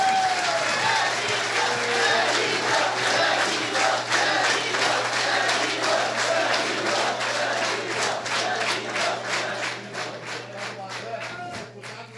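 Sustained applause fills a solemn session honouring Curitiba's champion samba schools, celebrating a samba school's first mestre-sala, Danilo; dense clapping with crowd cheers and voices runs steadily for about twelve seconds, easing slightly near the end.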